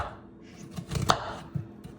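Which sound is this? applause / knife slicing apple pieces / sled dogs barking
knife slicing apple pieces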